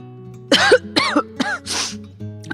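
Four quick, harsh coughs close to the listener, growing rougher toward the last, from a character with a dust allergy in an audio drama, then a short pause and a faint breath.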